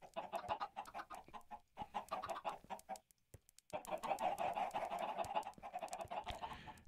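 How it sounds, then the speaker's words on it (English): Chickens in the video game Minecraft cluck repeatedly in short, close, fairly loud bursts, with a brief silent gap partway through before the clucking resumes. "Chickens."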